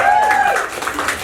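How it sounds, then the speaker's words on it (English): Applause from a crowd at a women's digital media and creative arts networking mixer, moderate clapping that thins out toward the end, with some faint voices and a tonal sound at the start. "So let's give them a round of applause."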